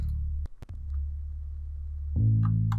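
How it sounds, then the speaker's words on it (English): A music sample with the Distorted Bright Tubes distortion preset from Retro Color in FL Studio, giving a warm, saturated, slightly brighter vintage tone. It plays as a steady low hum-like bass bed with a few sharp clicks, then swells louder near the end. "I used the Distorted Bright Tubes preset in retro color, just adds some other distortion and brings the tone up a bit"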